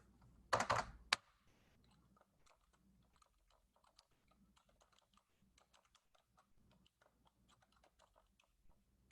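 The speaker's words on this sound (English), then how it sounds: "Let me go ahead and type that here." An email address being typed on a computer keyboard: faint, quick keystrokes tapping irregularly for several seconds after a short, louder bump at the start, with no talking.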